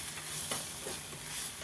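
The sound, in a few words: stirring spices together in a frying pan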